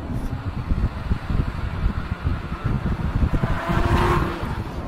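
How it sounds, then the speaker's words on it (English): A 2016 Chevrolet Corvette Z06 cruises in third and downshifts into second, its engine a steady, close rumble with a slight rise near the end, heard from inside without talk. "I'm cruising along in third right now, downshift into second, pretty seamless."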